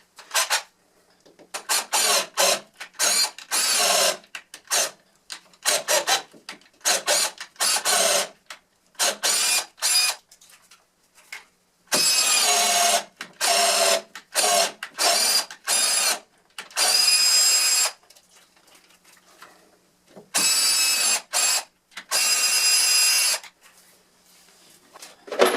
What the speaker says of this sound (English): This is basically where I show you how quickly I can tap using a drill